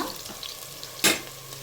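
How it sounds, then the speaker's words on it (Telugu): Onions frying for a Telangana-style mutton curry, a soft continuous sizzle broken by one brief louder stir or scrape, close and quiet, with no talking. "మంచి గోల్డ్ కలర్ వచ్చేలాగా ఫ్రై చేసి ఒకసారి కలుపుకోండి"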